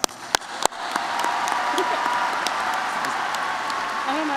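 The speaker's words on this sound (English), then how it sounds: "Please join me in giving them a round of applause." A graduation ceremony audience at a large university hall breaks into applause, opening with a few sharp claps before settling into sustained, dense clapping from a big crowd that holds steady throughout.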